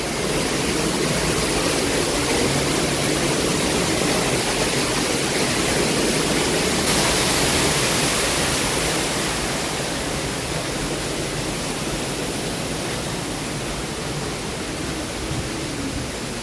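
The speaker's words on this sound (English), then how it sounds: "I'm gonna come over here to the waterfall." Waterfall at Animal Kingdom, Walt Disney World, roaring as a loud, unbroken hiss of falling water close at hand, easing slightly toward the end, with no talk.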